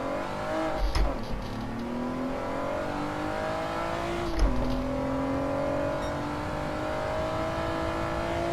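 Car engine in the Gran Turismo 7 racing game running steadily throughout, with its pitch rising and falling as it revs, plus two brief louder bursts of revving.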